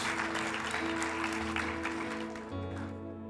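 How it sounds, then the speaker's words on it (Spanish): A church congregation claps through a sermon while steady musical tones sustain underneath, the clapping moderately loud and fading near the end. "Yo sé que están aplaudiendo solo los adultos que tienen hijos."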